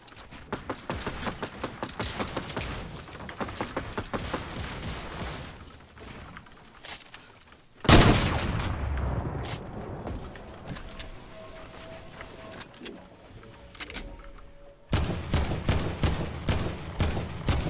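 Gunfire in a shooter video game: bursts of rapid shots, a loud sharp blast near the middle, then renewed rhythmic automatic fire toward the end, over quieter game ambience.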